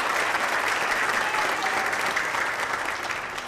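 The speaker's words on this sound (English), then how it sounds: "And how about one more round of applause for Ian?" A school concert audience applauding a graduating band student, a dense, loud wash of many clapping hands, steady throughout and tapering slightly at the very end.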